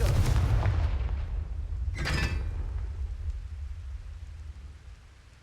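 Confringo blasting spell cast in Hogwarts Legacy on PS5, a heavy low boom followed by a sharp crackling burst, then a rumbling roar that slowly fades.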